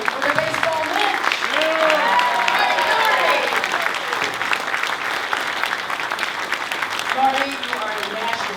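A theater audience at a Baseball Mensch screening keeps up loud, continuous clapping for several seconds, with occasional cheers and voices rising over the steady applause.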